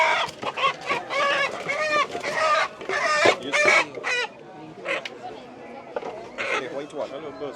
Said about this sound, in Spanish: está sacando un gallo blanco